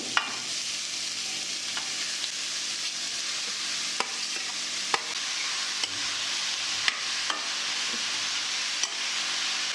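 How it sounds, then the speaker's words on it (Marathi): Grated carrot stir-fried in ghee in a kadhai: a loud, continuous sizzle and hiss with a spatula scraping through it and small regular ticks against the pan. "गाजराचा किस एक 5 मिनिट चांगला परतून द्यायचा।"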